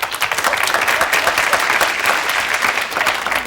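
Studio audience applause on a television dating game show, a dense, steady wash of many hands clapping at full volume throughout, with no voices over it.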